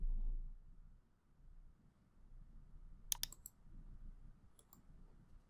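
A few sharp computer mouse clicks land close together midway, followed by a couple more faint clicks, over a quiet room hum with no speech.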